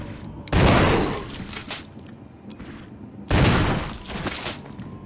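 Gunfire in Resident Evil Remastered as a mutated enemy is shot: two loud, close weapon blasts about three seconds apart, each with a long, decaying rumble and scattered smaller impacts.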